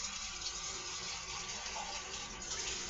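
Tap water runs steadily as an empty can is rinsed out under the faucet in a kitchen sink. The rush is even and continuous, with no pauses or splashes standing out.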